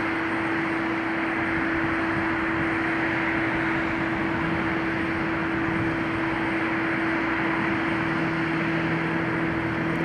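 A C-17 Globemaster military transport aircraft comes in to land at PDX airport, a steady, loud broadband roar with a sustained engine whine held throughout, no voices.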